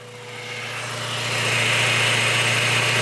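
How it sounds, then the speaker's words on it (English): A 2000 Honda Civic Si 1.6L engine runs steadily during a clutch install, recorded close to the transmission, a constant hum with mechanical whine that swells slightly louder and holds. "Now the engine is running."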